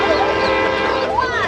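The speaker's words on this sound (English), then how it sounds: "Train's here. Stand back, please." A passenger train pulls into a station on National Train Day in Santa Barbara, its horn blaring loud and sustained with shifting tones over rumbling rail noise, close by.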